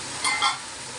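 Tomatoes tipped into a pan of spiced oil with coriander and cumin powder, giving a brief close burst of sizzling and hiss that settles into a steady softer fry.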